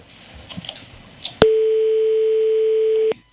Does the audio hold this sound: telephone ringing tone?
yes